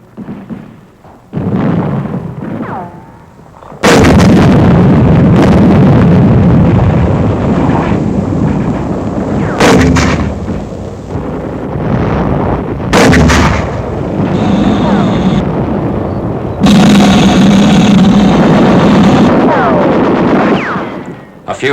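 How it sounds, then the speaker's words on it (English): Mortar rounds fired by a wartime combat crew: loud, booming blasts hit at irregular intervals over a continuous rumbling background of battlefield noise, with several sharp reports standing out clearly. "A mortar crew gets ready for action."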